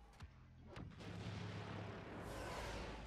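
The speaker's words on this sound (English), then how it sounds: "Airstrike incoming." Airstrike explosions in the Star Wars Battlefront video game: a couple of sharp booms, then a heavy rumbling barrage that swells and rolls on, loud and distant-sounding. Nobody talks.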